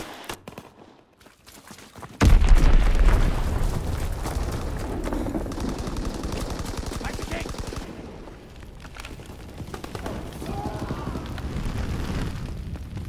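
Enemy bomb explosions and gunfire in Call of Duty WWII: a sudden heavy blast after a quiet moment, followed by sustained rumbling and rapid machine-gun fire continuing throughout, loud and close.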